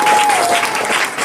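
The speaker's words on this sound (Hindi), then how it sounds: "उस महान ईश्वर के लिए एक बार जोरदार तालियों का स्वागत करते" Brief burst of congregational clapping at a Christian worship gathering, loud and close, lasting just over a second, with a faint sustained tone running through it.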